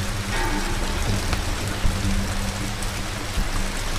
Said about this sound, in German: Ist auch schön hier mit Schnee und Regen.